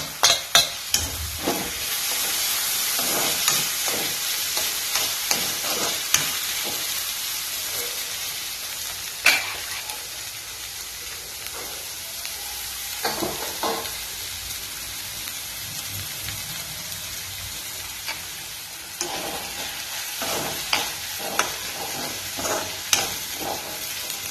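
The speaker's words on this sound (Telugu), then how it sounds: "ఇప్పుడు టమాటాలు కూడా యాడ్ చేసేస్తున్నాం." Mint and tomatoes fry in a pan while being stirred, giving a continuous close sizzle broken by repeated scraping and clicking stirs over about twenty-four seconds, with no talking.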